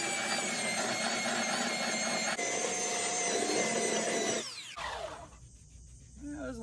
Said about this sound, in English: I want to use my belt sander, get it a little bit smoother, and then just my regular palm sander